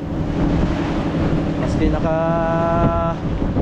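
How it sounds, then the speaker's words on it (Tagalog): Wind gusts over a fishing boat out on the water, a steady broad rushing roar throughout, with a person talking over it and a brief tonal whine partway through. "Ngayon mahangin na."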